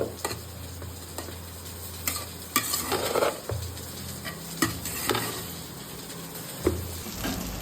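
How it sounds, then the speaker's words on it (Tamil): Fish frying in a pan in a home kitchen gives a low steady sizzle with repeated scraping and stirring clinks from a utensil, close and moderately loud, with no voices. "ஃபிஷ் ஃப்ரை பண்ண ஸ்டார்ட் பண்ணியாச்சு"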